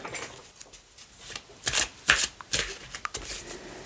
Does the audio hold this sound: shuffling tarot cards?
yes